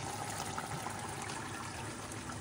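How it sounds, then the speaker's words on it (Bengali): Rice boils in a pot on a home stove while fried rice is being cooked for a festival lunch, giving a steady, close bubbling and watery rush that holds evenly throughout with no talking. "এখানে ভাতটা ফুটছে।"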